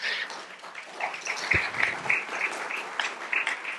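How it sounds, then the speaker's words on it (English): Applause from an audience at a power grid symposium, fairly light and scattered, with a few sharper claps standing out over a soft, steady patter. "Give them a round of applause."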